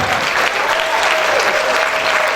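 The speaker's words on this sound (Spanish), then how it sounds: "vamos a aplaudir fuerte al Señor" A standing church congregation claps loudly and continuously during worship, a thick, sustained roar of many hands, with a faint keyboard tone held beneath it.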